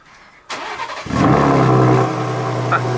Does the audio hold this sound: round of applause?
no